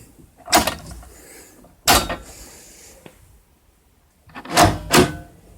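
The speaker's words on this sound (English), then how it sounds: "that'll operate the door catch" Mechanical clunks from the inner door handle working the door catch on an AC Cobra, several sharp latch clicks and thuds in two groups separated by a quiet pause, close by with no talk.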